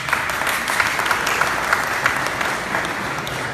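Short burst of audience applause at a fire department call and volunteer recruit class graduation, dense clapping at an even level with a few sharper claps standing out.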